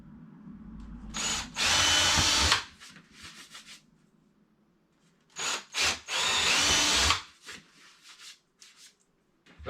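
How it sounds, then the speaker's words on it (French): A power drill with a small bit pre-drills screw holes in the steel keel of a sailboat, two loud whining bursts of about a second each separated by quiet handling noises. "Et on va pré-percer tout ça."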